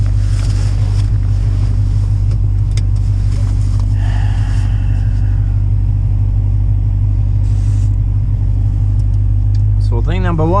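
A car engine rumbling steadily while driving, loud and constant with heavy wind buffeting on the microphone, a brief voice near the end.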